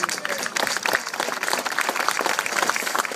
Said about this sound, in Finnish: Aplodit.